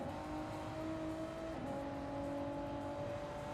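Steady race car engine drone in a racing game, with a quick pitch drop around a short upshift partway through, fairly faint and continuous.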